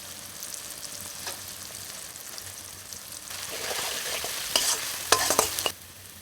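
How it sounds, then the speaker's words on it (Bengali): Onions frying in a pan while being stirred, a soft steady sizzle that grows louder toward the end with sharp scraping stirs and clinks, and no voices present. "একটু লাল লাল করে ভেজে নেব পেঁয়াজটার মধ্যে"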